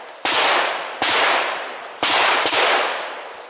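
Four sharp reports from a Sterling Police Carbine fired at a measured pace, each a loud crack followed by a long, echoing tail.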